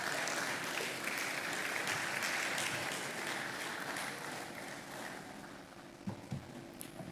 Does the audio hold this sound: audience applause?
yes